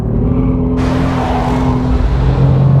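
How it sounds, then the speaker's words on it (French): Mercedes-AMG GT R accelerating hard while sliding, its engine holding a loud, steady roar close by with a sharp rise in intensity early on and no talk over it. "ça n'empêche pas la voiture de beaucoup glisser à l'accélération"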